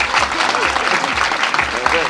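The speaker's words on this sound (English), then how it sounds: "Ајде аплауз за агентот од така" A studio audience on a Macedonian TV talk show breaks into steady, dense applause for a guest agent, loud and continuous, with a voice speaking faintly over it.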